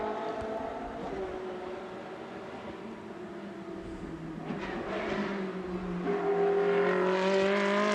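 Race cars from a Trofeo Pirelli round at Sochi drive back into the pit lane, their engines a steady layered drone with several tones shifting in pitch, rising slightly in loudness toward the end.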